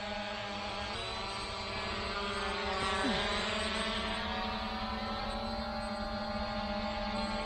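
A ZLRC SG906 PRO 2 drone hovers and flies in remote-following mode, its propellers giving a steady, buzzing whine that holds nearly unchanged throughout and rises only slightly midway.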